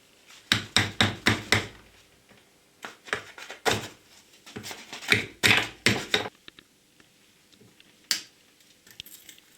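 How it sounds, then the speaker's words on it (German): Old clamps are knocked and pried off a Volkswagen Passat 35i drive shaft held in a bench vise, a series of sharp metallic taps and clanks in quick bursts with short pauses between. "Wir haben die Antriebswelle in den Schraubstock angespannt und müssen zuerst die alten Schellen loskriegen."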